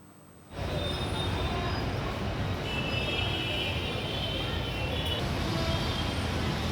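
A crowded Hyderabad metro train on the LB Nagar to Miyapur line rolls along with a sudden onset of steady loud rumbling and faint wheel squeal, continuous throughout with a few faint voices underneath.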